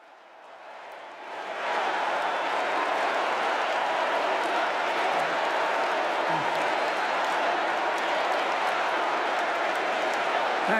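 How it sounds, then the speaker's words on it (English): A prolonged round of applause from a large convention crowd at the 2024 Democratic National Convention rises quickly and holds as a steady, dense roar of clapping and cheering. "They're giving the prolonged round of applause, dramatic, over the top"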